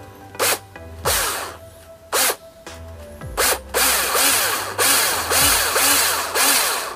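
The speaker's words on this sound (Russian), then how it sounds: "У меня шуруповерт кошмарит, то есть регулятор не работает," A cordless screwdriver with a broken speed control jumps straight to full speed, giving a series of sharp, close whirring bursts that spin up and cut off, growing longer and more regular toward the end.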